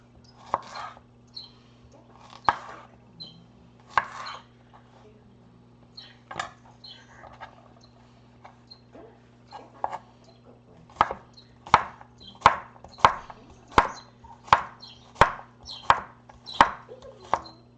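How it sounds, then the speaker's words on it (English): Cucumbers being chopped on a cutting board in a home kitchen, scattered knife strikes at first, then a fast, even run of crisp thuds close by, with a low steady hum behind. "then we'll chop up our cucumbers"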